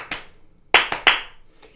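Hand clapping in an uneven pattern: one clap, a pause, then three quick sharp claps close together and a faint final tap, the rhythm practice leaving a gap where a beat is skipped.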